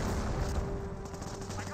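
Rapid automatic flak gunfire from an Ostwind anti-aircraft tank in Company of Heroes, a dense continuous clatter of shots over steady battle noise, loud and close throughout.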